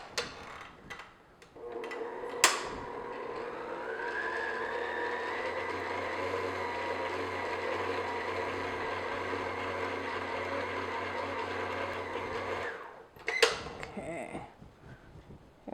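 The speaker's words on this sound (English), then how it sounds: "we're just going to beat this on low speed just to mix everything together" An electric mixer beating thick peppermint pattie filling on low speed hums steadily for about ten seconds, with sharp clicks as it switches on and off.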